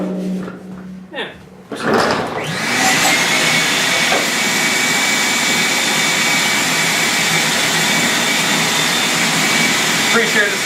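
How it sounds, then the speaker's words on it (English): A shop vacuum roars steadily and loudly inside a garage after a car welding fire, starting about two seconds in and running without pause to the end, with brief voices and clatter before it starts. "vacuum? just turn it on"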